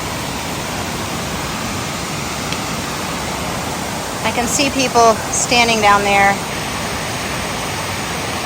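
Long Creek Falls waterfall on the Appalachian Trail in Georgia, a steady broad rushing roar heard from nearby throughout, with a person speaking briefly over it.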